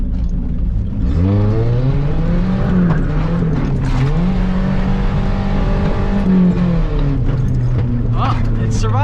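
Nissan Hardbody pickup truck rolling over a bumpy road, its engine droning steadily with rising and falling pitch as it works through the gears, under continuous talking.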